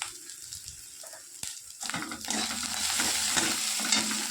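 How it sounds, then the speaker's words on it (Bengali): Onion paste and garlic stirred and frying in a pan for a golda chingri (prawn) curry, with a soft sizzle that swells after a quiet start and steady scraping stirs throughout. "পেঁয়াজ বাটা দিয়ে এটা ভালো করে নাড়াচাড়া করবে।"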